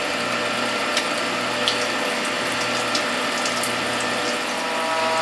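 A juice press machine squeezes carrot, collard, French sorrel, ginger, turmeric and garlic pulp packed in pressing cloths, giving a steady mechanical hum with liquid gurgling and faint clicks throughout, with no talking.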